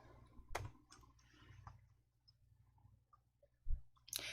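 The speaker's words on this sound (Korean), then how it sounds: "D3번 셀 클릭." A computer mouse clicks in a spreadsheet, making faint, sharp clicks close to the microphone. There are a few scattered single clicks over a quiet hum, with a louder pair near the end.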